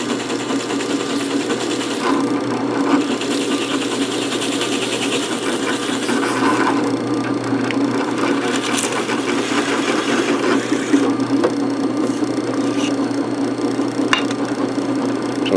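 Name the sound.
drilling through a wooden board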